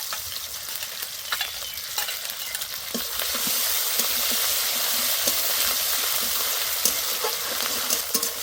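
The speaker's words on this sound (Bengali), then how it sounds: "ভালো করে কষে নেব।" Ginger paste, green chili paste and chopped tomato sizzle loudly in hot oil in a pan for a potato and eggplant curry, with steady frying hiss and occasional stirring scrapes close by.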